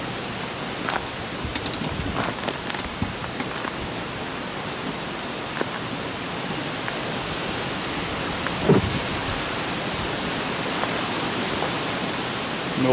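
Water runs steadily from an outside faucet through a garden hose while a camper is prepared for winterization, a constant broadband rushing hiss with faint clicks and one brief bump near the middle.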